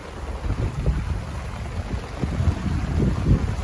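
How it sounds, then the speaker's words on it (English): A brief squall of about 20 knots blowing over a sailboat on the Potomac, gusty wind buffeting and rumbling close against the microphone in uneven surges, with no voices. "A little squall. It's dying already. We had 20 knots for like 2 minutes."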